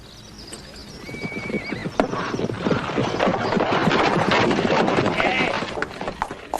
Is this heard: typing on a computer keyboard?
no